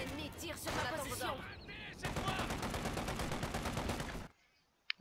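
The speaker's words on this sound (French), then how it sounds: "L'ennemi tire sur ma position." Enemy machine-gun fire in Company of Heroes 2 rattles in a dense, rapid stream, preceded by a voice speaking in French, then cuts off abruptly into near silence with a couple of faint distant pops.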